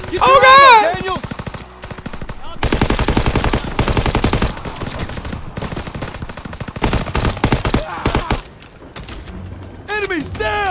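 Machine-gun fire and rattling gunshots fill a World War II battle in the Call of Duty WW2 campaign, loud and sustained, mixed with shouting voices and mechanical clanks.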